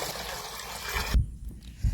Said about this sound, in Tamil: பாத்திரத்தில் தண்ணி ஊற்றிக்கலாம்